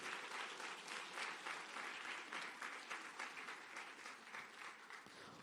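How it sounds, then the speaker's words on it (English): Crowd applause for an award recipient at a science festival closing ceremony, a dense, even clapping texture heard at a distance and fairly faint, continuous for several seconds without speech. "A round of applause for Unati."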